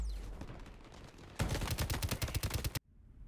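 Rapid automatic gunfire from the shooter game Shatterline, a loud, dense burst of about a dozen close shots after softer, scattered firing, then stopping suddenly.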